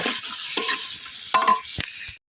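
Dried red chillies, onion and garlic fry in hot oil in a pan, a steady loud sizzle with a few stirring scrapes near the end before it cuts off; no one talks.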